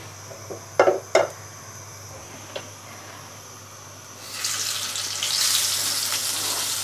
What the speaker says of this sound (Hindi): तो तेल जैसे ही गर्म हो जाए हमारा, हम इसमें फिश डाल देंगे।